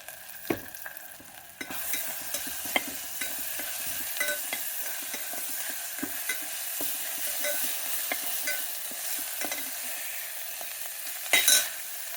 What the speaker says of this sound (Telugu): ఉల్లిపాయలు వేగిపోయినాయండి. ఇప్పుడు అల్లం వెల్లుల్లి పేస్టు ఒక చిన్న స్పూన్తో 2 స్పూన్లు అన్నమాట.